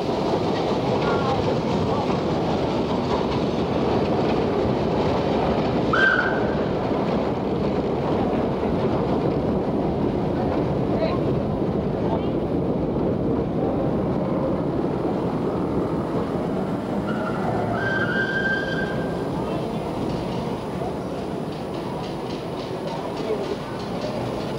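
A steam train rolls through a street in Java, Indonesia, with a continuous rumbling, rattling wagon noise and a couple of short high squeals or whistle tones, steady and moderately near throughout.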